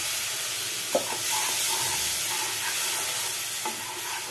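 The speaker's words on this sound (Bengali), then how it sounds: "একটু জল দিয়ে দিলাম, মশলাটাকে ভালো মতো কষানো যায়।" Spiced masala sizzles steadily in a pan with a splash of water, for a banana-flower mochar ghonto, a bright continuous hiss with a few soft spoon scrapes and clicks, close and alone.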